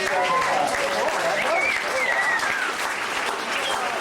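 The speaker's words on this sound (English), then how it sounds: "Let's give our two brave volunteers up for this round of applause" A theme park audience at a 1999 special effects show in Orlando applauds two volunteers, continuous dense clapping with a few cheers and whistles rising over it.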